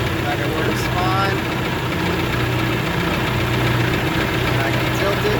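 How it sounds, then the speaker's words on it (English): A John Deere 450C bulldozer engine runs at low idle, a steady unbroken rumble with a faint knocking texture that holds an even level from start to finish, close by. "Gotta remember I'm at a low idle"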